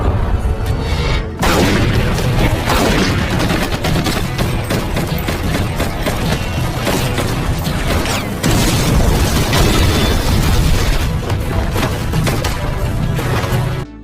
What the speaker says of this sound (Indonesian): Kemudian, John terlibat baku tembak